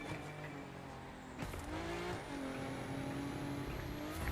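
Race car engine in a racing video game, droning with a steady harmonic whine that dips and climbs as gears change, plus a short tyre-like burst partway through, loud and continuous with no talking.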